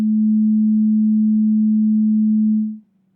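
A synthesizer oscillator plays a pure, steady sine tone, loud and unwavering for nearly three seconds before fading quickly to silence.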